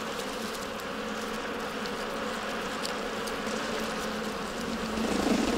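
Honey bees inside a hollow tree hive buzz in a continuous, even drone, with a faint rise in intensity near the end; no voices.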